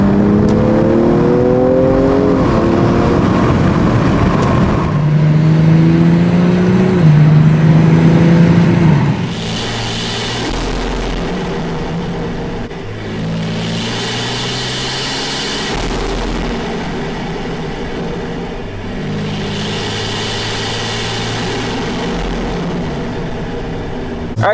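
BMW M340i with the B58 engine and a Burger Motorsports competition intake revs hard, a loud rising howl then three repeated surging bursts with deep low rumble between, steady and close without voices.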